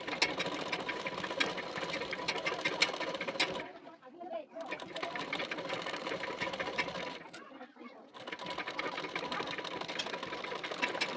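Sewing machine stitching a ruffled fabric strip onto the right side of cloth, running in steady continuous bursts with two brief pauses.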